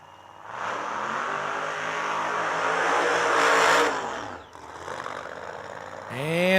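A Pro Mod drag racing car at the Yellow Bullet Nationals roars loudly and steadily, then its pitch climbs in a revving surge before a brief dip and another rising rev, with crowd or announcer speech faintly beneath.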